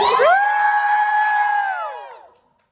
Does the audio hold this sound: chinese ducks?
no